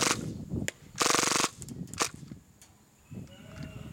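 An HFC T77 gas blowback airsoft gun fires full auto, a rapid burst of sharp cracks lasting about half a second, with a few single pops before and after it.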